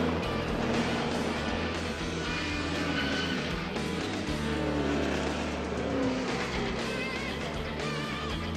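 Race cars competing on the circuit at Le Mans, with engines roaring and passing in a continuous loud wash, tires squealing at moments and the crowd-level din never letting up.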